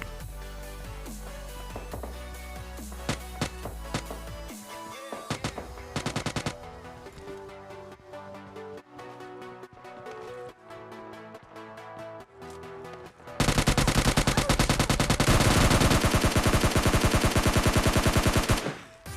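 Gunfire in the mobile shooter PUBG Mobile Lite, with scattered single shots and short bursts over game music, then a long dense run of rapid automatic fire near the end, loud and close, with no talk.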